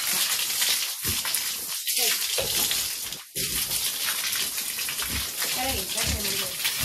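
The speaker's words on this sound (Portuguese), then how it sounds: "Joga água aqui no postinho pra mim." Water is splashed and thrown in gushing bursts to wash a pigsty on a small countryside farm, loud and close, with several separate dousings and people talking between them.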